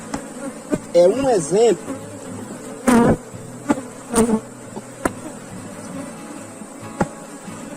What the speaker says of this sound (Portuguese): esse enxame aqui que a gente está fazendo a revisão